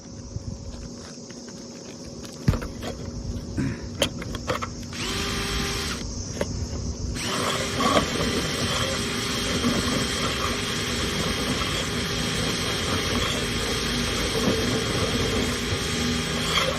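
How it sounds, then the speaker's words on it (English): A power drill running in reverse while cleaning a dryer vent whirs steadily and loudly up close, with brief pauses and restarts early on, then runs continuously for the rest. "I just turned the drill in reverse"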